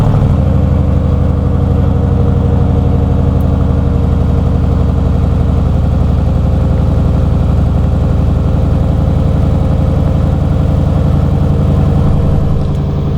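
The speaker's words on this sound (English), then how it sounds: "Now, before we get to any of the fun, of course I'm gonna do a cold start." A Dodge Durango SRT V8 starts cold in snow and settles into a loud, steady, deep idle rumble that holds evenly throughout, close to the exhaust.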